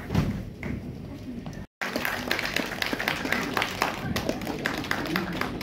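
An audience claps at a cultural evening at Rabindra Okakura Bhavan in Salt Lake, Kolkata, with dense, uneven applause that drops out for a moment and then resumes, with voices mixed in.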